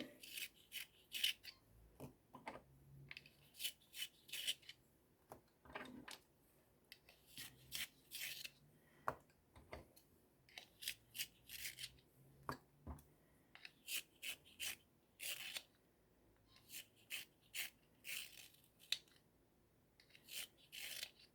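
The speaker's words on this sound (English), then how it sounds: "sharpen my pencils before I begin" Quiet, repeated scraping bursts of colored pencils being sharpened, short grinding strokes in irregular clusters with pauses between.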